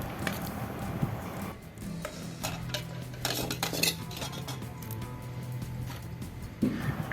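Utensils clink and scrape steadily as masala paste is stirred into tamarind water in a pot for a Kerala-style fish curry. The metallic contact is close and continuous, with no talking.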